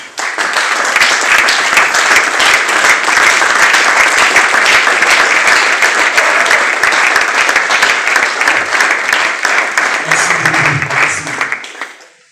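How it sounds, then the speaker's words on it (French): A large standing audience at an awards ceremony claps loudly and steadily, a dense wash of applause that carries on for several seconds before fading out abruptly at the end, with a brief murmur of voices near the close. "je nous demande tous de nous mettre debout et d'applaudir très fort"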